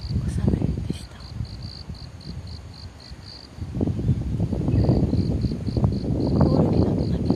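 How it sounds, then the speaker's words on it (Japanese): Crickets chirping on a campus at about six in the morning, a rhythmic high trill in short repeated pulses that pauses briefly, then resumes, over a fuller rumbling background with possible distant voices. "コオロギの鳴き声でございます。"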